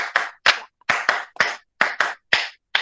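Sharp, close hand claps in a quick, uneven rhythm at a classroom management webinar, about a dozen in all, each with a short ringing tail and brief silences between.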